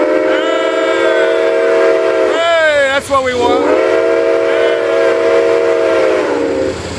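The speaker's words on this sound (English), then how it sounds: "Give us a good whistle. The kids want a good whistle" A steam locomotive's whistle blows loud and close in one long sustained chord, wavering briefly in the middle before holding again, while a person speaks a few words over it.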